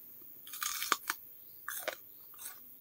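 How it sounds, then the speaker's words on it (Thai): Someone takes the first bites of a spicy rice-noodle salad with garden-picked bitter gourd, giving close, crisp crunching bites followed by chewing in two separate bursts. "กัดคำแรก"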